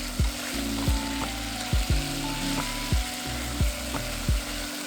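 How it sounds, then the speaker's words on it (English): Black bean paste sauce cooks in a pan for Malaysian beef noodles with a steady sizzle, punctuated by a regular series of sharp clacks and scrapes from stirring utensils against the pan, with no voices. "I'm using black bean paste as the base of the sauce."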